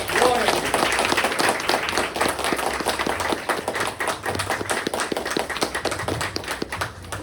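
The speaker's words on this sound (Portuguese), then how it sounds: "E vamos dar uma salva de palmas para o louvor." A church congregation claps together in a dense, steady round of applause, with voices talking over it throughout.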